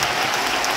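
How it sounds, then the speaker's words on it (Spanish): A theatre audience applauds at a concert by a singer at Teatro Coliseo in Argentina. The clapping is loud, close and continuous throughout this brief moment. "Quiero un minuto y dar un gran aplauso a todo mi staff"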